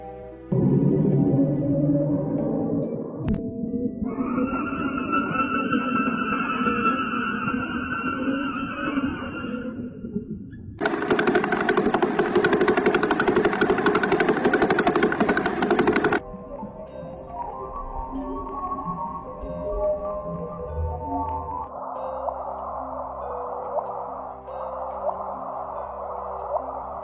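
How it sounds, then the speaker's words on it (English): Eerie electronic tones from a black hole sonification shift through distinct sections: low drones, a wavering high hum, a burst of dense noise, then layered sustained pitches. "Scientists take invisible waves from space and change them into sounds."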